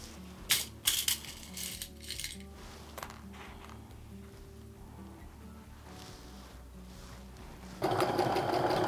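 A sewing machine runs a steady, rhythmic stitching hum along a quilt block seam, preceded by a few sharp clinks and handling noises, and the sound grows louder and rougher near the end.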